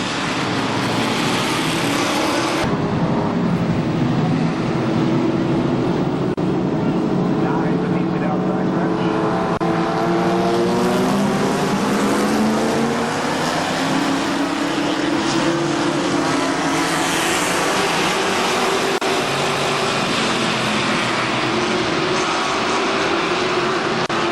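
Race cars at KilKare Speedway roar around the track in a loud, continuous engine drone, pitch rising and falling as the cars pass, with an announcer's voice over the PA throughout.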